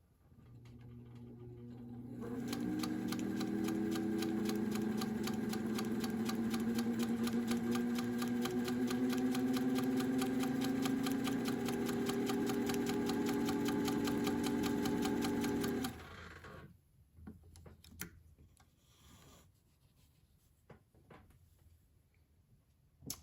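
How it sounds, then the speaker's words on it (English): A sewing machine stitches a quilt block in one long, steady run of close, loud motor hum and rapid needle ticking, stopping abruptly, then followed by quiet handling clicks and rustles. "we'll sew our block"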